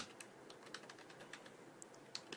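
Quiet, rapid clicking of computer keys as information is typed into a browser-based game's web form, a steady run of light taps with no voices.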